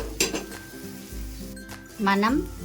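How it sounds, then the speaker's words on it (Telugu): Bitter gourd pieces fry with chili powder in a pan, giving a sizzling hiss with pan clinks and stirring scrapes, while a voice talks over it. "కారం కూడా వేసుకొని మనం కాకరకాయ ముక్కల్ని మనం బాగా వేయించుకున్నామండి"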